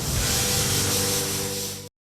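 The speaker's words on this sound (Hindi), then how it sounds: "ये था जेट पैक" A jet pack blasts a loud, continuous roaring hiss of thrust that holds steady for nearly two seconds before cutting off abruptly into silence.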